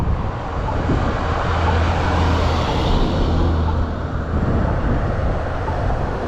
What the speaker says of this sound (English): So I'm waiting on this traffic to clear,